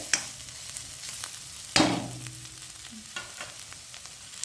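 Ingredients for Jaffna puttu kothu sautéing in a pan, soft continuous sizzle with stirring scrapes and a sharp louder hiss burst midway, close and alone.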